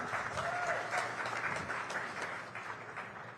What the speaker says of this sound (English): A round of applause, ladies and gentlemen, for Gina.